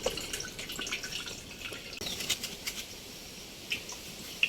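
Water drips off washed rice set to drain while beef khichuri is cooked, a faint scatter of soft irregular drips and ticks over a quiet background with no talk.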